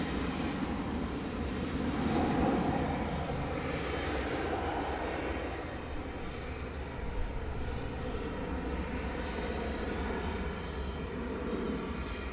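An American Airlines Boeing 737-800 bound for Boise on a runway at DFW Airport at night, its engines giving a steady, loud broadband roar that holds for the whole stretch with no voices.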